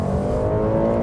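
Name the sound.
naturally aspirated V6 engine noise in Buick Enclave cabin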